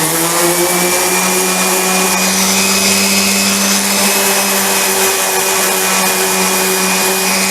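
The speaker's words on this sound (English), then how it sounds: "I'm going to try to sand them a little bit" A power sander working over the stained wooden parts of a small stool, droning loud and steady at close range with a constant high whine and no pauses.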